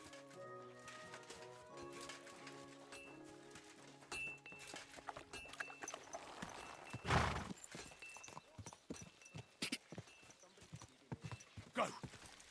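Horse hooves clip-clopping in the video game Kingdom Come Deliverance 2, rhythmic hoofbeats picking up after a musical passage, with a strong thud near the middle and a voice talking over it.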